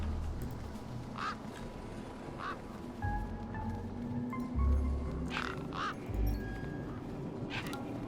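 Duck-like bird in the video game Beyond a Steel Sky quacking several times, short nasal calls spaced irregularly over a low ambient game bed with occasional deeper thumps.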